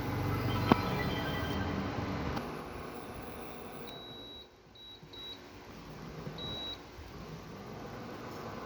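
A kitchen timer beeps in short high tones during the cooking of chicken adobo, a few brief beeps then a longer one over the low hum and clatter of a home kitchen.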